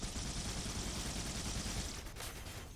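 Sustained automatic gunfire from a weapon in Halo: Combat Evolved, played on Xbox One, a dense steady rattle of rapid shots for about two seconds before easing off slightly.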